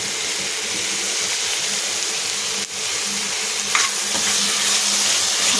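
Onion, tomato, ginger and garlic frying in a pan, a steady close hiss of sizzling oil with a brief stirring scrape partway through and no talking.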